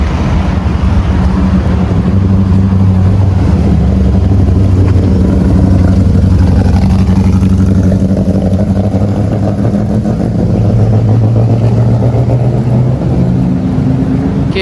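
A Ford GT40 race car at the Tour Auto passes close and loud, its engine note a dense, sustained roar that rises and shifts in pitch as it moves by.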